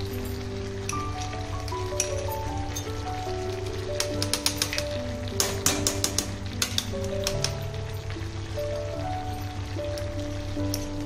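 Two spoonfuls of ghee crackle and sizzle in a pan with a dense, rain-like spatter and sharper pops in the middle, over steady background music.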